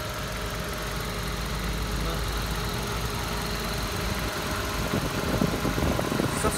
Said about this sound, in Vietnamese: máy đang lổ các bác nhé, lổ rất là êm luôn